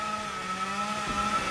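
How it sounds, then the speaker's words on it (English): Chainsaw in the video game DmC, a steady droning engine hum with a sustained buzzing tone, moderately loud and continuous. "For God's sake, put the chainsaw down,"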